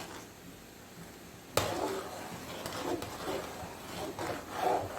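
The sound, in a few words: stirring milk kheer with a spoon in a pot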